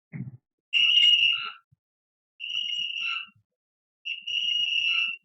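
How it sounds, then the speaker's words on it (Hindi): A loud, shrill whistle in three sustained blasts with short gaps between them, heard alone in an indoor room during a live share market discussion session. "बड़ा सीटी मार रहा है।"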